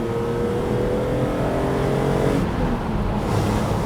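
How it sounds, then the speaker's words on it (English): BMW Z4 M Roadster cars revving hard and sweeping past in a continuous loud roar, the engine note rising and then dropping as they go by, with no talking. "this experience of having those cars pass me"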